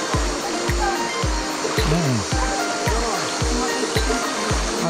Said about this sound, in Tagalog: Matalsik yung tubig.